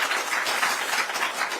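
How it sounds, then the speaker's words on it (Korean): Applause from the audience at a political party members' debate forum, a short, dense burst of clapping filling the hall at an even, fairly loud level. "다시 한번 박수 보내주십시오."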